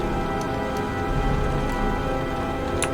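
Steady rain pouring in the video game Heavy Rain, a dense even hiss of drops on surfaces with faint tonal background hum, continuous and unchanging over a few seconds.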